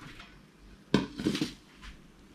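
A plate is handled and flipped over a pan to serve a bitter melon omelette, making a couple of short, close clinks and knocks against cookware in an otherwise quiet kitchen.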